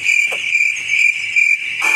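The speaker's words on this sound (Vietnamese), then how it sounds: "Có tiếng dế kêu ở đâu không?" Steady high-pitched cricket chirping from a night ambience in the video game Dude Theft Wars, a continuous insect trill pulsing evenly throughout with a faint rustle near the end.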